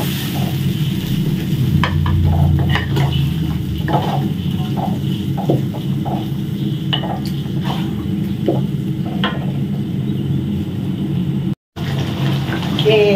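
Rice vermicelli noodles stir-fried in a pan with a little water added, making a steady sizzle and hiss with scraping stir strokes. A voice talks over it throughout, and there is a brief break near the end.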